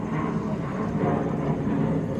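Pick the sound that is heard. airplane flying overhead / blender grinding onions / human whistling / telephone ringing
airplane flying overhead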